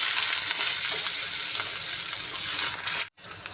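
Onion frying in hot oil, a loud, dense, continuous close sizzle that cuts out abruptly near the end, then resumes faintly.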